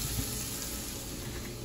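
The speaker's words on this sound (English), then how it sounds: "So, y'all, Sammy started cooking." Food sizzling in a pan on a home stove, a steady broadband hiss with faint crackles, close and continuous with no voices over it.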